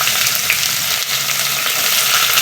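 Onions fry in oil with cinnamon, fennel, cloves, mace and stone flower for chicken biryani, giving a loud, dense, continuous sizzle close by with faint stirring underneath.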